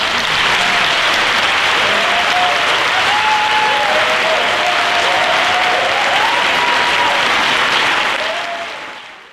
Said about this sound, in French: Je vous demande d'applaudir Madame Irène Grosjean.